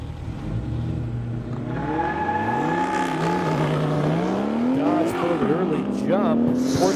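Race cars, including fast Porsches and a Challenger, launch and roar at an airstrip drag race, engines revving and climbing in pitch over several seconds, loud and continuous beneath an announcer's commentary.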